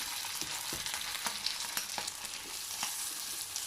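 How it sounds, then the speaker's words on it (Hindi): Potato, chicken and egg cutlets fry in a shallow layer of hot oil over a medium flame, giving a continuous dense sizzle dotted with small sharp crackles and pops, close by and without speech. "इस पर मैं कटलेट जो है वो फ्राई होने के लिए इस तरह से डाल दूँगी"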